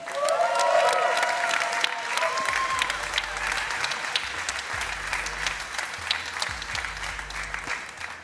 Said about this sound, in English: a big applause for the all-new GLC